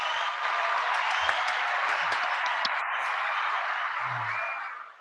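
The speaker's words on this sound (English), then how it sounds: "Give you a round of applause first." Steady applause from a seminar audience at a recruitment event, a dense even wash of clapping that holds for about four seconds before fading out, with no talking over it.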